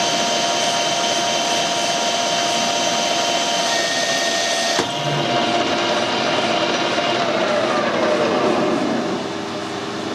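Steady loud metal lathe cutting with a carbide tool, taking a 2 mm pass up to a shoulder, a continuous machining roar with a brief break midway and a sweeping whine near the end.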